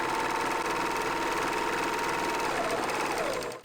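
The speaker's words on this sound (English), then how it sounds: "Overlock all your pieces in the highlighted areas that I am showing you." An overlocker stitches the fabric pieces of a wrap dress sewn from a bedsheet, a fast, steady mechanical whir running continuously and close before stopping abruptly at the end.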